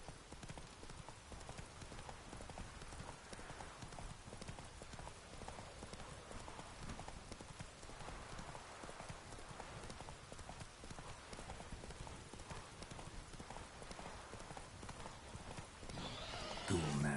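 Roach, the horse in The Witcher 3, gallops with a dense, rapid run of hoofbeats that continues steadily for a long stretch, fairly quiet, with a faint whinny and a louder swell right at the end.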